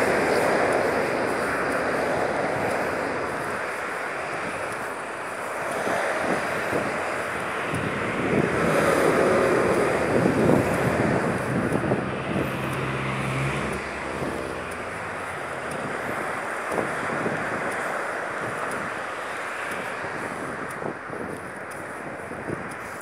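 Traffic on the Pacific Highway in Australia, with vehicles rushing past in swelling and fading waves and one louder, heavier pass near the middle, all over gusty wind noise.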